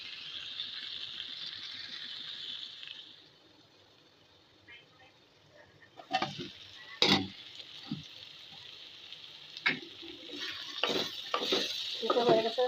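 Red yard-long beans frying with potato and shrimp sizzle in a pan, first a steady fry, then a lull followed by sharp scraping and clattering stirs of a utensil against the pan, with some talk in between.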